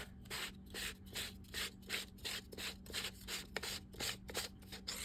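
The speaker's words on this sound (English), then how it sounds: "So we're going to start off by removing this Budweiser cover. So what you do is you unscrew the end of it here." Cover being unscrewed from a Johnson Budweiser fishing reel: quiet, close, rhythmic rubbing and scraping strokes repeating steadily, faint and without talk.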